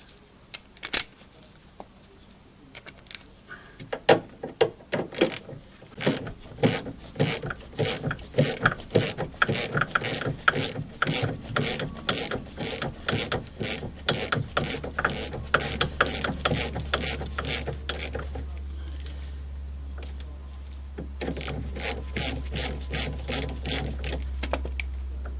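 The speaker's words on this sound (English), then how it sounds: "I'd rather just hold that and use a ratchet to unscrew the bottom nut" A ratchet unscrews the bottom 13 mm nylock nut of a drop link on a Renault Clio, making rapid runs of sharp, close clicks in repeated bursts with short pauses between them, no talk.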